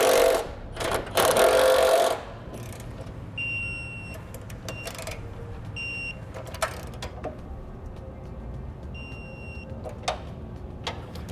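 Power tool snugging down the bolts of a Blue Ox base plate on a 2007 Saturn Vue, a loud two-second burst of buzzing at the start followed by quieter short bursts, clicks and faint whines.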